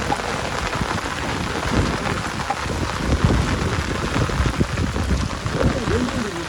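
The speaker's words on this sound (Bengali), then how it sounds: "দর্শক সাগরের ভিতরে বৃষ্টি পড়া আপনাদের কেমন লাগে?" Steady heavy rain pours down at sea on a fishing boat in the Sundarbans during a Kalbaishakhi storm, a dense continuous hiss with scattered louder patter, close and loud throughout.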